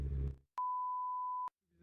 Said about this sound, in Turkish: Tek bip çıktı.